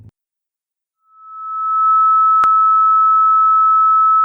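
A steady pure sine tone from a P5.js oscillator, set for the colour yellow, swells in after a moment of silence and holds loud and unwavering, broken once by a brief click.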